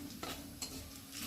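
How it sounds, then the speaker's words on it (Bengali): Whole cumin and crushed garam masala tempering in a pan: quiet, steady sizzle with a couple of brief spoon scrapes, close and faint. "ফোড়নটা একটু ভেজে নেব।"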